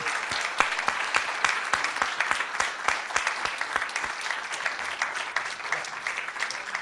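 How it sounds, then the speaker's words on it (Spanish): At the close of an art talk on conceptual art, an audience breaks into steady applause, dense clapping from many hands in a room, lasting throughout at an even, moderately loud level without speech. "un aplauso."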